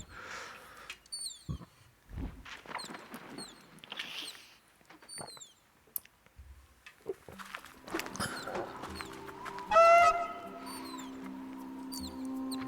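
A bird in the Myst III Exile game gives a series of short chirps and tweets over quiet ambient clicks and rustles, with a louder call near the end.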